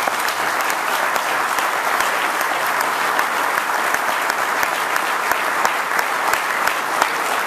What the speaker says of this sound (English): So give him a great round of applause for making it.